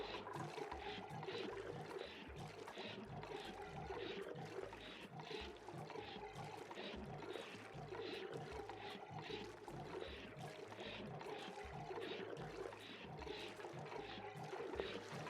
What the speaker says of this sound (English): we're pumping water into here way quicker than we're using it